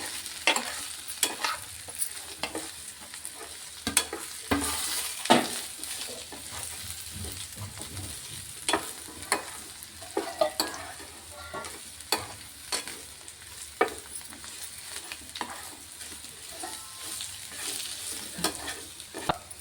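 Ingredients for old-style tamarind chutney, with sesame seeds added, fry in oil in a pan, with steady sizzling broken by frequent scraping strokes of a stirring spoon, close and moderately loud throughout, no talking.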